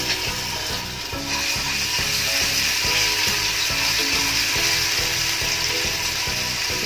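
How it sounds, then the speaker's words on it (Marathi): Ginger garlic paste frying in hot oil for a Szechuan frankie filling, a steady loud sizzle with crackling that runs the whole time, close up and without any voices. "तेल तापलंय, आले लसणाची पेस्ट घातली"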